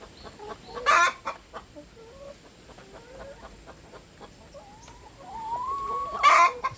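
Laying hens on an egg farm cluck in short repeated calls, with two louder, sharper squawks near the start and end over a steady low coop background.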